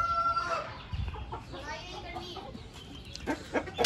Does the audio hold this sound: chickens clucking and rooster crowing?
yes